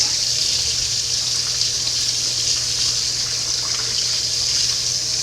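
Tap water pours steadily over moss and fragile driftwood being rinsed, a constant close gushing splash with no pauses and no talking.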